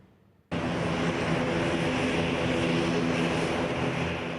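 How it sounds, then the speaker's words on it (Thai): An 80-seat passenger airplane from Samui taxis toward the new passenger terminal of an international airport. Its steady, loud engine roar starts abruptly and holds without letting up. "เครื่องบินขนาดเล็กประมาณ 80 ที่นั่งจากสมุย ที่กำลังแล่นเข้ามาจอดบริเวณหน้าอาคารผู้โดยสารหลังใหม่"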